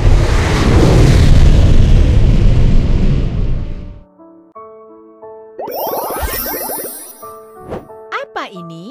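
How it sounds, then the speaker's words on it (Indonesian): A loud rocket-like roar with rumbling blast fills the first four seconds, then cuts off into cheerful jingly chimes and spoken words. "Roket."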